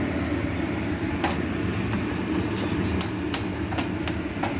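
Onion peels stirred in a pan over a medium flame while making homemade hair oil, giving a steady sizzling hiss broken by several sharp clinks of a utensil against the pan.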